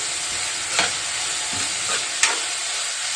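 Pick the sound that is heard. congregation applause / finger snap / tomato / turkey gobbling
tomato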